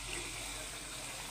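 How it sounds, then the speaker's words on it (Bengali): Water from a rinsed bowl poured into a pot of mutton curry makes a steady, close pouring splash that runs evenly for about a second and a half. "একটু বাটিটা ধুয়ে একটু জল দিয়ে দেবো"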